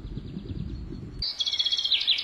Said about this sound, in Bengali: পাখি এদিক ওদিক তাকাচ্ছে।